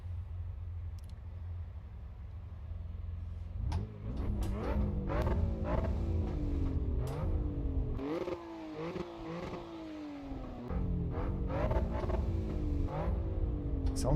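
A race car engine in the Assetto Corsa EVO driving game revs hard from inside the cabin, rising repeatedly through quick gear shifts after a low idle, loud and rumbling throughout.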